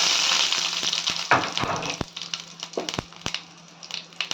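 Fennel seeds frying in a spoonful of hot oil in a pan, a soft sizzling hiss broken by scattered sharp pops and crackles that thin out over a few seconds, with no talking.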